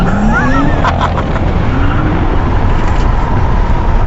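A Tesla Model X P100D launches hard in Ludicrous mode, its electric drive giving a steady whine and rising whir over a constant rush of road and wind noise, heard from inside the cabin.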